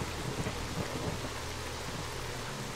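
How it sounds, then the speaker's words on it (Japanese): Steady rain pours with rolling low thunder in the video game S.T.A.L.K.E.R. Call of Pripyat, a continuous dense hiss under a deep rumble. "しかも雨降られると足音がいまいち聞こえないからな。"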